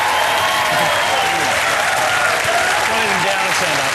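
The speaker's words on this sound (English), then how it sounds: "And keep that applause going for people who think David Hicks had a fair trial." A studio audience at a 2007 television comedy show claps in a dense, loud, sustained burst that fills the whole moment, while someone talks over the applause.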